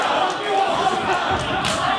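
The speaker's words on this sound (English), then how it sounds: "the crowd chanting for Oscar here" A wrestling crowd chants for Oscar, a dense, steady roar of many voices filling the arena throughout, with some rhythm in the cheering and a commentator's voice mixed in.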